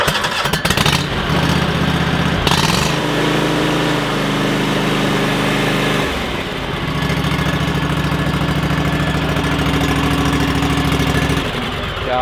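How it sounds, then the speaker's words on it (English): A riding lawn mower engine idles steadily and loud, briefly shifting pitch as it settles into an even purr, heard close and alone. "Gosh, that engine just purrs."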